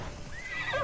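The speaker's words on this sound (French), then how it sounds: "Le cheval." A horse in the video game Assassin's Creed Odyssey gives a short, clear whinny, a single rising and falling neigh heard alone.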